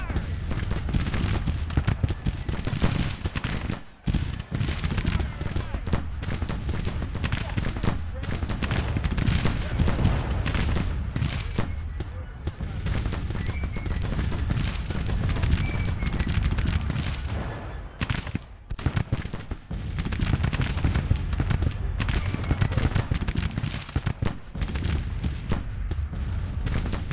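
Musket and artillery volleys from Grand Tactician: The Civil War rumble in a heavy, unbroken battle din, with repeated crackling discharges and deep booms packed together, loud and sustained, dropping briefly only a few times.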